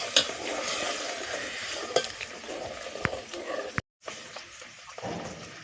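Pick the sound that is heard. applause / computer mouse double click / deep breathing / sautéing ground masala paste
sautéing ground masala paste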